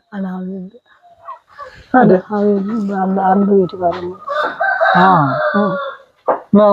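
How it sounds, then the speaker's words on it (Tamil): Native village chickens cluck and a rooster crows loudly nearby on a goat farm, with people talking over the birds. "கோழி நிறைய நிக்குது"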